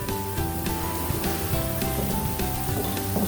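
Shallots frying in hot oil, a steady close crackling sizzle with rapid small pops, continuous and moderately loud with no talking.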